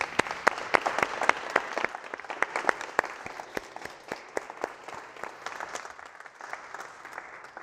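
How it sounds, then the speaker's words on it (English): Audience applause at a live mastermind seminar event, a steady run of sharp, distinct claps from a crowd, fairly distant and fading slightly toward the end with no talk over it. "Give them a round of applause."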